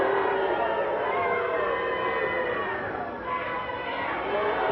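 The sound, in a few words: wrestling arena crowd jeering Al Madril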